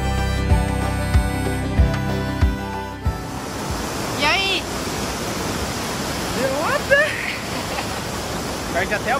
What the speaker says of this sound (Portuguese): Essa daqui é a Cachoeira do Escorrega, que tem esse nome porque ela é um escorregador natural.